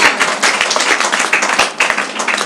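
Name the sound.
loud clapping for Jesus by church audience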